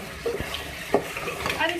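A spoon stirs beef and taro curry with fried onions and spices in a pot, soft scraping and a gentle sizzle, with a few clinks of utensil against metal.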